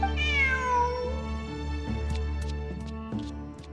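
A cartoonish cat meows in a long, rising and falling call over steady background music in Genshin Impact, followed by a few short soft tones.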